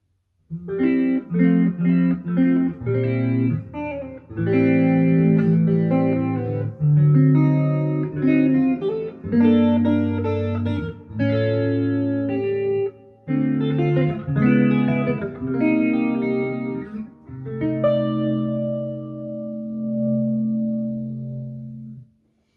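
A PRS Hollowbody II electric guitar plays loud distorted chords and riffs through a Positive Grid Spark amp at full volume, sustained notes ringing out between phrases, with no voices.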